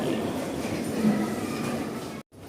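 A train rumbles steadily at close range in a tunnel on the way to the airport in Hong Kong, a continuous low roar that cuts off abruptly near the end.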